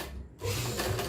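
Sewing machine driven by its foot pedal runs steadily with a close mechanical whir, starting after a brief quieter moment and holding a continuous hum with slight speed changes.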